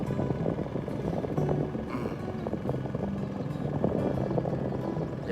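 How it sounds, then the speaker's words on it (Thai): The engine of a Malaysian vehicle roars steadily while riding, with rumbling low mechanical noise and wind buffeting the microphone. It stays loud and constant throughout. "ขอโทษขออภัยเด้อท่านผู้ชมเสียงรถมันก็บ่เงียบเนาะ"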